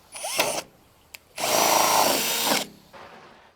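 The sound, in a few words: drill with 64mm hole saw cutting hole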